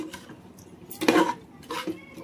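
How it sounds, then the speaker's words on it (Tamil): A spoon stirs mutton biryani masala in a pressure cooker, giving a few sharp metallic scrapes and clinks in short bursts, close and fairly quiet, with no voices. "இன்னும் கொஞ்சம் கிண்டி விட்டுக்கலாம்."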